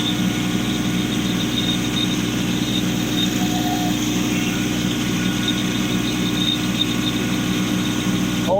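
A Kubota compact tractor blows snow off a pond rink outdoors, its engine droning steadily and loud throughout with no breaks.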